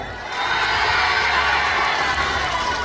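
Loud, steady applause and cheering from a crowd at a song launch event in a shopping mall in Hong Kong, rising after a quiet start and staying dense and unbroken for the rest of the clip.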